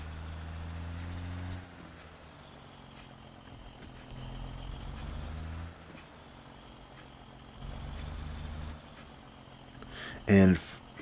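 Double-axle truck in Truck Simulation 19, with a low engine rumble rising and falling in several pushes and a sharp hiss of air brakes near the end, under quiet talk.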